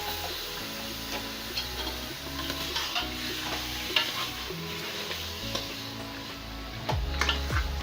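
Mutton frying in a pan for mutton karahi with bay leaves, a steady sizzle under repeated clicks and scrapes of a spoon as the meat is stirred, close and moderately loud.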